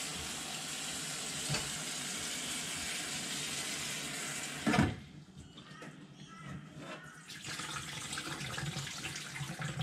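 Dried broad beans are washed under running water, a steady splashing flow that stops abruptly with a clunk, followed by quieter swishing and rinsing.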